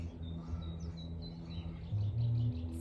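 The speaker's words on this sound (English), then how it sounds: "listening to the birds" Birds chirp and sing outdoors in a steady run of short, high calls over a low ambient hum, with no one talking.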